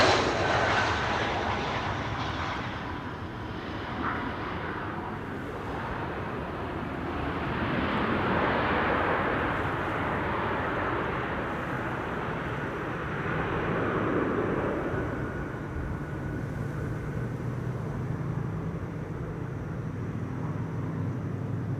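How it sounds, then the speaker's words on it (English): British Airways Airbus A320 landing at Amsterdam Schiphol Airport, a steady distant jet roar swelling and fading slowly over a long stretch, with no voices. "let's first look at the BA A320 landing here"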